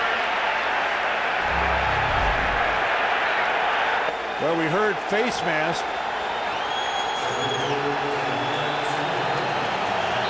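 Stadium crowd at an NFL game between the Indianapolis Colts and New York Jets, a dense continuous roar of boos and crowd noise filling the background while a broadcaster talks over it.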